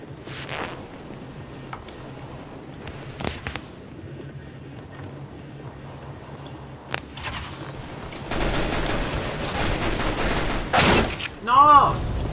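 A PP-Bizon submachine gun fires in CS:GO, with sustained rapid bursts building in the latter part over quieter game ambience, along with occasional voices and sharp effects.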